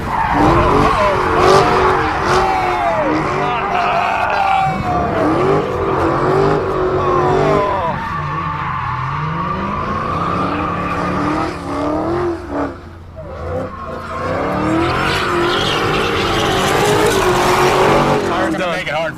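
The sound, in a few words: Dodge Hellcat and Viper skidding, destroying tires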